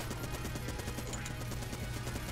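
Rapid gunfire in Enter the Gungeon, a continuous stream of quick, evenly pulsing shots over a dense, steady bed of game music and effects, loud throughout with no pauses.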